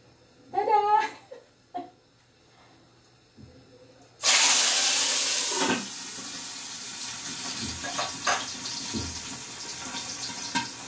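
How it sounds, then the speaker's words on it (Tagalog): A sudden loud burst of hissing sizzle as fish hits hot oil, settling into steady frying with a few clatters; a voice and a squeal come just before. "eto na naman tayo sa pagpiprito ng isda."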